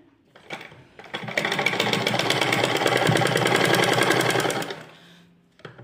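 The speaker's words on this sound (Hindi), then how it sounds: "अब मैं इन पे एक सिलाई लगा दूंगी" A sewing machine runs a steady fast stitching burst through fabric sleeves, close and loud, ramping up and then winding down to a stop after a few seconds.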